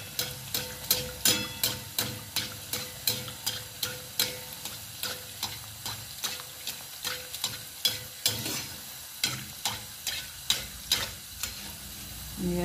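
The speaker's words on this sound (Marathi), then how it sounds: "एका वेळेला आपण 10-10 गुलाबजामुन तळून घेऊ शकतो" Gulab jamun deep-frying in a pan of oil, about ten at a time, with oil ladled over them from above: a steady bubbling sizzle broken by regular clicking taps of the ladle roughly every half second, close by with no talk.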